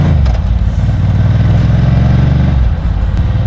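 A 40-year-old Ducati 900 MHR Mille motorcycle runs with a steady low rumble throughout as it is ridden, loud and close, with a brief dip near the end.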